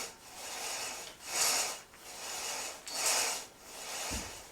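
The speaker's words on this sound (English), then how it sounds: "Listen to this pulley." Plastic home gym cable pulley wheel running back and forth in repeated swelling whirs, a close rubbing hiss that rises and falls about every second and a half.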